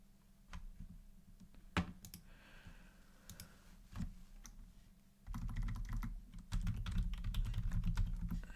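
Rapid irregular clicking of computer keyboard keys, close and fairly quiet at first, then denser and busier typing toward the end, with no talking.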